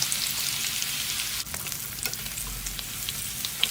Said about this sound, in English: I'm going to continue making the rest of the crispy tacos